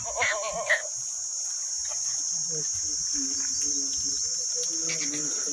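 Kathiawadi goats bleat repeatedly at moderate distance, overlapping calls rising and falling, with a steady high-pitched insect-like whine running throughout.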